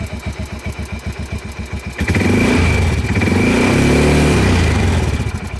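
UTV engine cranking with rapid rhythmic starter chugs, then catching and running at a loud, steady idle up close.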